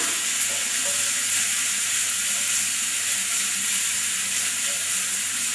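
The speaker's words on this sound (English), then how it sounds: "Fry the onions a little" Onions fry in oil in a frying pan, giving a steady, close, even sizzle that carries on without a break. No one speaks.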